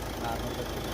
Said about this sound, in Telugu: ఇప్పుడు కార్లో ట్రాక్టర్ సౌండ్ ఉండే, ఇంజన్ సౌండ్.